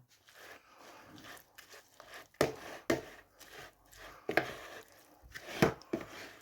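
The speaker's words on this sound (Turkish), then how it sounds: "salatamızı karıştırıyoruz" Salad being tossed and mixed in a home kitchen, with a series of crisp, crunchy rustles and scrapes coming in short bursts, some louder clanks standing out, close and fairly quiet.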